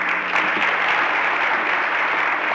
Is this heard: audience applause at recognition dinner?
yes